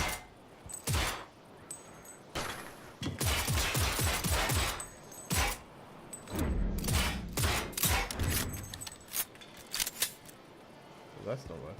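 Video game gunfire in Cyberpunk 2077, aimed at an antenna: repeated sharp shots in quick volleys with metallic clicks, interspersed with someone talking over the action.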